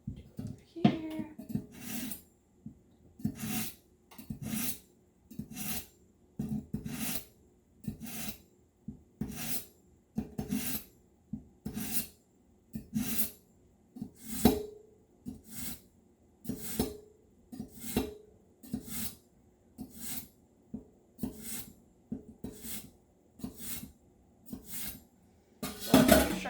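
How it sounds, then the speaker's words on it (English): Kitchen knife drawn through a small handheld sharpener, about twenty rhythmic rasping swipes at a steady pace, close and crisp, with faint talk in the background. "My knife, got my little knife sharpener."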